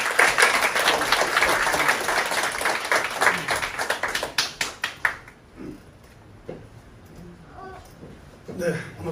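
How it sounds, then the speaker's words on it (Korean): Church audience applause welcoming a missionary during a Japan short-term mission gathering, dense clapping for about five seconds that thins into scattered claps under speech. "우리 박수로 맞이하겠습니다"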